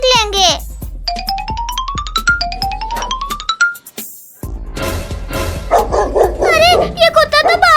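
A cartoon dog barks in short, sharp yaps near the end, mixed in with chiming, sliding musical effects and bright animated sound cues.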